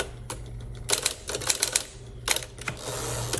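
A 1959 Smith Corona Electric Portable typewriter clacks through a rapid burst of keystrokes, pauses, then fires another quick run of sharp strikes, followed by a steady mechanical whir as the margin release lets the carriage move on.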